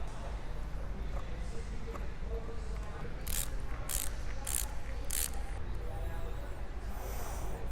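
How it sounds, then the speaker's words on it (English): A ratchet wrench clicks in several quick bursts while tightening bolts on a GP Cycleworks windshield mount for a Can-Am Spyder F3, close and fairly loud over a low background hum. "if you need to put a wrench here to be able to tighten this down, you can"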